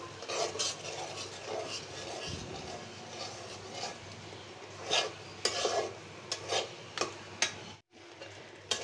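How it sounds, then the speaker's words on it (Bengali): Shrimp stir-fried in a pot over a clay stove, with a steady low rasping sizzle and a run of sharp scraping, clattering strokes toward the end, no voices. "চিংড়ি মাছ কষিয়ে নিলাম।"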